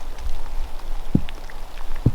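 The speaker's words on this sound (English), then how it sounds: "right on cue, there's some rain" Rain beginning to fall on public land during an archery elk hunt, a soft outdoor patter with a low rumble of wind and a couple of sharper drop or rustle hits, fairly faint and without talk.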